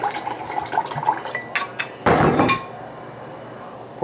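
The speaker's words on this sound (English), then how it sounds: "Pour a little tequila in there." Tequila poured into a margarita glass already holding squeezed lime, with a few light clinks and then a short, splashy liquid pour lasting about half a second, close by, followed by quiet room background.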